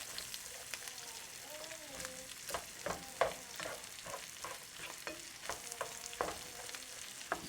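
Onions cook and sizzle in rendered bacon fat in a pot, with a steady frying hiss and frequent stirring clatters. A voice speaks faintly underneath.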